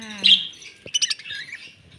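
Budgerigars calling in a breeding cage, with a few sharp chirps and squawky warbling bursts close by, alone without talk.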